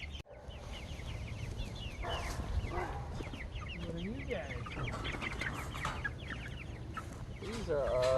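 Cornish cross meat chickens cluck and chirp steadily on a farm, close and continuous, with a person speaking briefly over the flock.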